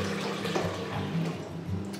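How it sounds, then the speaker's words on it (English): Lukewarm water poured from a container into a mixing bowl, a continuous close splashing gush with gurgling, steady for the whole stretch. "we're gonna take our 800 grams of lukewarm water here. I'm gonna dump it right into the mixing bowl"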